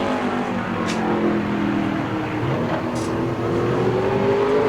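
Super Late Model race car lapping New Smyrna Speedway during qualifying, a loud continuous engine drone with a rising pitch as it powers through the corners.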